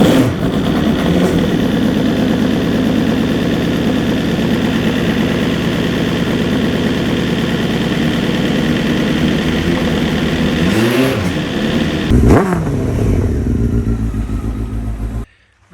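A Honda 954RR motorcycle engine with dirty fuel injectors runs at a steady, loud idle close by. It holds an even rumble throughout, then a couple of brief revs near the end before it cuts off abruptly.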